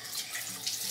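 Tap water runs steadily into a bathroom sink as a face is splashed, a close, continuous hissing splash with small surges and no talking.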